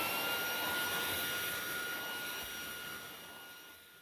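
An ILIFE M50 handheld vacuum runs with a steady high-pitched motor whine and airy suction hiss, fading slightly toward the end, with no talk.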